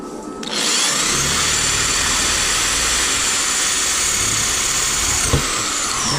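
A power drill spins up and runs steadily at high speed with a constant whining buzz, close and loud, while building a rod holder for bank fishing, with a small knock near the end.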